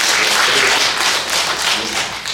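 A church congregation applauds during a Sunday service marking the church's founding anniversary, a dense, steady wash of many hands clapping at once, loud and sustained with no speech over it.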